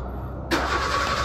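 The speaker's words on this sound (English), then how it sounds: "So this is gonna only crank the starter, but not switch on the car." A car starter motor cranks through a racing-style ignition switch fed by a 12-volt constant supply: quiet hum, then a sudden loud, steady mechanical whirr kicks in and keeps grinding without the engine catching.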